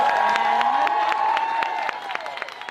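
Audience at a Roam Fest Fruita panel of women applauds with dense, steady clapping and scattered cheers that fade slightly toward the end.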